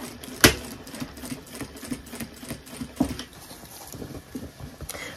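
A sewing machine stitches a seam with a steady, quick mechanical patter of needle strokes, one sharp clack near the start and another around the middle, fairly close and without talk.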